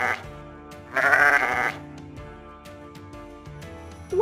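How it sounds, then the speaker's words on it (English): A sheep gives one loud, wavering bleat in the middle of a quiet farmyard backdrop with faint clicks, followed by a brief rising call at the very end. "Over there's a sheep. Sheep say ba-ba."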